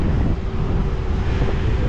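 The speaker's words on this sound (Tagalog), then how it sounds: "Lakas ng hangin!" Strong wind buffets the microphone outdoors in Finland, producing a loud, continuous low roar and rumble throughout.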